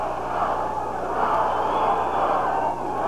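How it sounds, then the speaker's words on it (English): A large arena crowd at a professional wrestling event makes a dense, continuous roar of chanting voices, loud and steady with no clear pauses. "the crowd is picking up the chant, as you hear"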